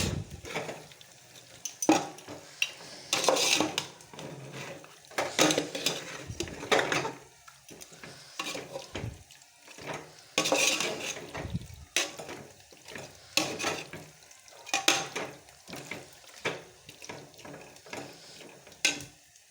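Washed chicken pieces going into a pot for chicken biryani and being stirred, with a run of scraping, clattering utensil strokes against the pot and a soft sizzle underneath, steady and close for the whole stretch.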